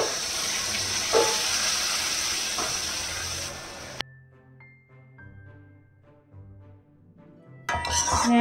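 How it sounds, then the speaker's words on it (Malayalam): A quarter cup of vinegar is poured into hot garlic pickle for Kerala-style achar, giving a loud burst of sizzling that cuts off abruptly, followed by quiet clinks and a brief return of hiss at the end. "ഇപ്പൊ തന്നെ നമുക്ക് ഇതിലേക്കൊരു 1/4 കപ്പ് വിനാഗിരി കൂടി ചേർക്കാം"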